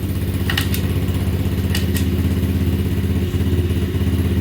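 The 90cc Pantera minibike's small four-speed engine idles steadily and close by, a continuous throbbing putter with a few light metallic clicks over it.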